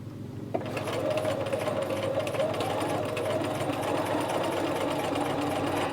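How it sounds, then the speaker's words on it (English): A sewing machine starts up and stitches a flap pocket for a McCall's 8031 pattern, settling into a steady, close, rapid mechanical whir that runs without pause after a brief quiet start. "I'm gonna roll my needle forward, and we are going to start stitching."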